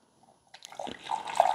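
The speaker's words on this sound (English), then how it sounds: "So let's see how the carafe pours." Coffee pours from the thermal carafe of a Braun Multiserve 10-cup coffee maker into a cup, a short liquid trickle that builds and splashes steadily over about a second, close and fairly quiet, with no talking.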